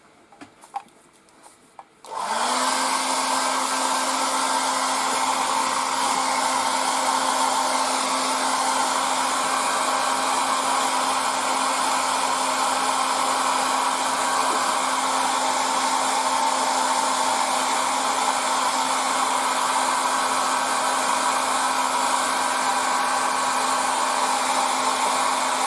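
A hair dryer blows paint dry on a 1:35 scale ICM Panzerspähwagen P204 (f) model, switching on after a quiet start and then holding a loud, steady whooshing hum with a constant tone for over twenty seconds.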